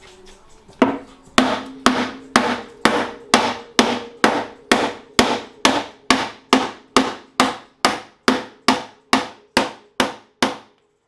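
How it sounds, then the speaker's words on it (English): A sledgehammer bangs out the raised door of a Nissan S14 240SX in about twenty heavy, evenly spaced metallic blows. The strikes are loud and close, and each one rings briefly. "I actually need to bang that out. So I need to find a sledge."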